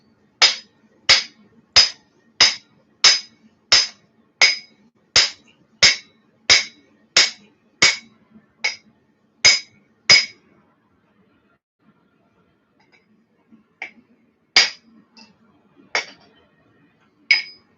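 A short sledge hammer strikes hot metal on a blacksmith's flatter in an evenly spaced run of sharp, ringing blows, about a dozen in a row, then a pause and a few scattered hits.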